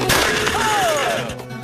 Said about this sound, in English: Oh, that's the explosion I was looking for.